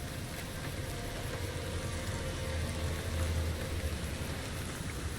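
Shower water in Fallout New Vegas pours as a steady, dense hiss of falling water with no variation, filling the whole stretch at an even level without speech.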